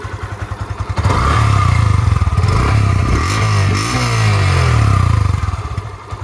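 Close by, a 2022 Yamaha FZS V3 motorcycle with around 7000 km idles with a quick pulse, then revs up in rising and falling surges. It drops back toward idle near the end.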